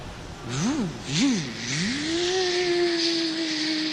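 A bird in a zoo bird house imitating a chainsaw: a few rising and falling revving whines, then a steady, buzzing motor drone that holds to the end.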